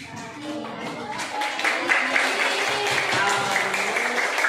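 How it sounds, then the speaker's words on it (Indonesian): A classroom crowd claps together in sustained applause for a student group, the dense patter building and holding steady for several seconds, with voices mixed in. "beri tepuk tangan untuk kelompok Al"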